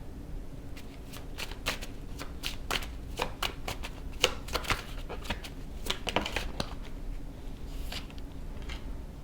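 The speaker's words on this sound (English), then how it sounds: "So I'm going to be shuffling on camera to see what the message is from your heart." Tarot cards are shuffled repeatedly by hand, a series of quick riffling and snapping bursts close to the listener with short pauses between.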